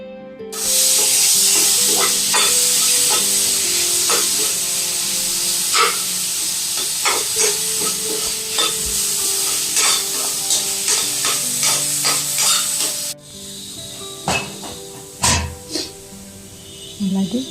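Marinated chicken with turmeric fries and sizzles steadily in a pan, with repeated scraping stirs and clinks throughout; the sizzle drops away near the end, leaving a few louder utensil knocks.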